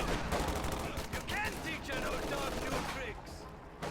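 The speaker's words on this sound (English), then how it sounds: "LMG Gren's over here firing at the Lieutenant" LMG Grenadiers fire machine guns in a video game battle, a dense, continuous clatter of rapid gunfire that runs through the whole stretch with voices talking over it.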